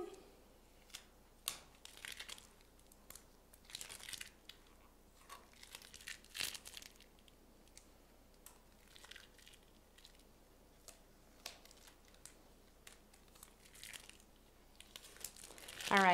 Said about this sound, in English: you can see our vinyl just peels right up